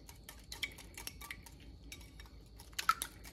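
Fork or whisk beating three eggs in a bowl for old-fashioned meatloaf, with irregular light clinks and taps of metal against the bowl, fairly quiet and close, with no talking.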